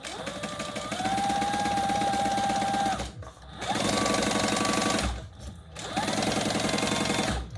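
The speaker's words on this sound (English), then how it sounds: "This one I'm going to go sew all the way across." A sewing machine stitches a seam across a bag in three long close runs, each a steady rapid mechanical chatter with a brief pause between them, and no talking.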